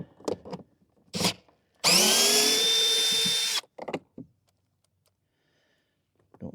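A power driver with a magnetic socket spins out a bolt on a 2020 Ram 1500 side mirror mount, one loud close whirring burst lasting about two seconds, between a man's brief speech.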